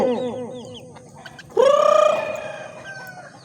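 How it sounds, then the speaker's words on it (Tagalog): Hungry chickens about to be fed cluck in quick repeated bursts close by, then one loud drawn-out call rises above the flock and trails off. "Ating mga manok at nagugutom na."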